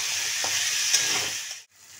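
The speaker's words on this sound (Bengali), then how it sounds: "আমি এবার আলুগুলো দিয়ে দিচ্ছি।" Potatoes frying in a pan with onions and chili for a papaya and egg curry, a short close hiss and sizzle with faint stirring before it cuts off.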